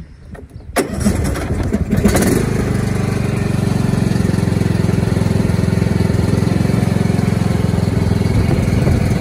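Cub Cadet XT1 LT42 lawn tractor engine cranking briefly, catching and then running at a steady close idle with an even mechanical drone, no talk.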